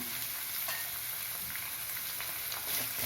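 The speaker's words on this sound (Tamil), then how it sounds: "முருங்கைக்காயும் கொஞ்சம் நேரம் வதங்கணும் வதங்கினா தான் சீக்கிரம் வேகும்" Drumsticks sauté in a pan for sambar with a soft, even crackle and hiss. Faint, scattered stirring scrapes run under it.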